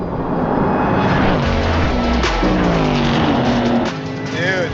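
A BMW M4 Competition and a Ford Mustang Dark Horse race, their engines roaring loud and continuous with rising and falling revs through gear changes, while a voice talks over the engine noise.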